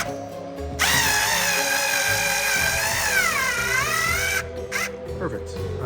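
A power drill whirs loud and steady for several seconds as it drives a screw into a giant 8-foot Halloween spider prop, pitch sagging under load near the end, with people talking around it.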